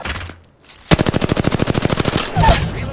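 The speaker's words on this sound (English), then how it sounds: "Opening fire on the enemy." A rapid burst of automatic gunfire in a team video game shooter, about twenty evenly spaced loud shots in a tight rhythm, preceded by a brief lull and followed by a softer rumble.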